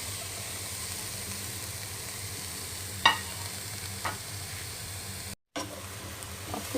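Cabbage and greens frying softly in a little olive oil in a pan, a quiet, steady sizzle and hiss with a couple of faint clicks from stirring.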